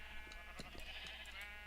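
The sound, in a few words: sheep bleating in Minecraft video game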